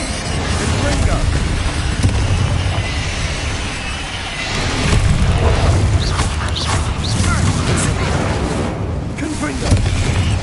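Repeated Confringo fire-spell blasts in Hogwarts Legacy on PS5 burst out in loud, dense succession, with heavy low booms and crackling debris layered over constant game noise and a voice in the background.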